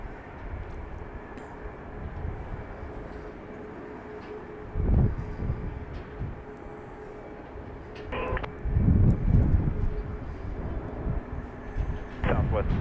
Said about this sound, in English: Gulfstream 5 coming in from Nassau.